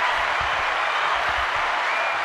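A canned applause effect from a livestream soundboard plays as a dense, even wash of clapping for about two seconds, loud and uniform, with faint voices beneath it.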